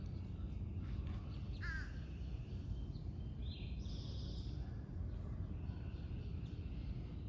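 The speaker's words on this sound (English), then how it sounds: "Hear the birds." Crows caw in a quiet morning courtyard, a short burst of harsh calls at a middle distance followed by a longer sustained caw, over a steady low rumble of background noise.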